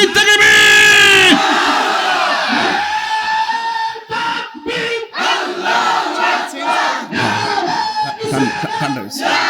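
A large crowd at an Islamic religious sermon roars a loud chanted takbir response in unison, a powerful burst at the start that gives way to a preacher's impassioned speech with the crowd audible beneath.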